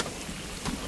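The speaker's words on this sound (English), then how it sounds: "What do you know? It's raining." Steady rain falling on an open crop field with grass, a soft, even wash of drops with no voices, brief and continuous throughout.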